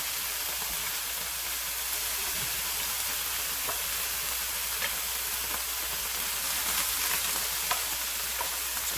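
Tuna browning in a pan on a stove top for tuna noodle casserole, a steady, soft sizzle and hiss with faint crackles, no talking.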